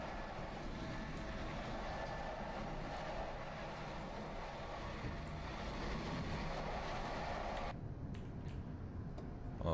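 Simulated BR 423 S-Bahn electric train on the Munich S6 line toward Pasing, cruising near 120 km/h: a steady, loud rolling rumble with a faint ticking that continues throughout, the upper hiss dropping away shortly before the end.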